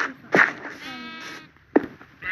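Sheep in the Minecraft video game give a quivering, wavering bleat between two sharp clicks, loud and close in a brief, clean game-audio burst.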